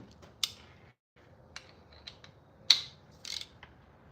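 An FA20 engine's main bearing bolts being loosened with a wrench, giving a few sharp metallic clicks and ratcheting ticks spaced irregularly, close and fairly quiet with no talking.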